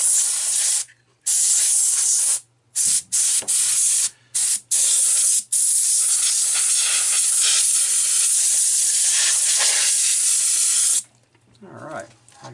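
Compressed air blasts in short bursts and then one long continuous hiss, blowing dust off a Tandy 3100 computer motherboard, close and loud.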